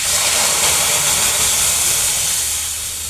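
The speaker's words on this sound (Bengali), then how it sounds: "আমি এখন এটায় পানি দিয়ে দেব।" Water hits dried ribbonfish frying in a hot pan, setting off a loud, sustained broadband hiss of steam that holds steady and then eases slightly toward the end, with no voices.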